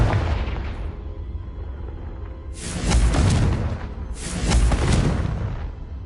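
A Confringo fire blast spell is cast twice in Hogwarts Legacy, and each cast is a loud, broad whooshing burst lasting over a second. Both bursts sit over a steady low rumble of game ambience.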